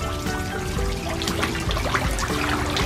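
Elsa-brand soap dumped into pool water gives a continuous splashing, trickling pour that runs steadily for a few seconds at close range, with no talk over it.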